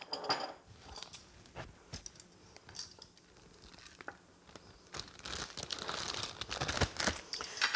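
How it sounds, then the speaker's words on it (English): Plastic snap-lock bag crinkles and rustles up close in irregular bursts, growing busier near the end as meat is packed into it to marinate. "I'm going to put that into a snap-lock bag to marinate."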